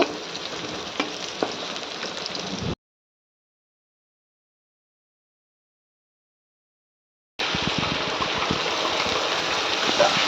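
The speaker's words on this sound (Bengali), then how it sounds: "তেলটা গরম হয়ে গেলে দুটো শুকনো লঙ্কা আর পেঁয়াজ কুচি দিয়ে দিলাম এটাকে ভালো করে নেড়ে চেড়ে নেব" Dried red chillies and chopped onion hitting hot mustard oil and being stirred: a loud, close crackling sizzle that cuts to complete silence for several seconds, then returns just as strong.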